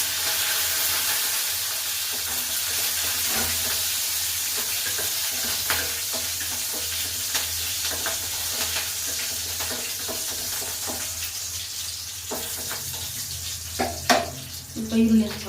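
Mustard seeds, cumin and green chillies sizzle in hot oil in a home kitchen while tempering for a moringa-leaf palya, a steady close hiss with scattered pops and a few stirring clinks toward the end.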